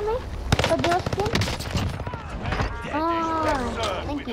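Rapid gunfire in the video game Call of Duty Warzone Pacific, a dense burst of close shots early on, then scattered shots as excited players talk over the action.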